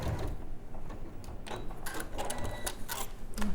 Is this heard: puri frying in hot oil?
no